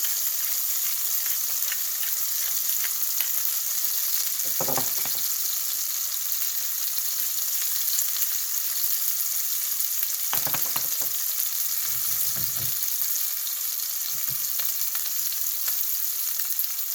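A beef steak for a Japanese steak bowl sears in a pan, giving a constant loud hiss and crackle that runs unbroken for the whole stretch, with a few faint low knocks in the kitchen and no talk.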